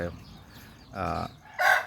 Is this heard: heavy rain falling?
no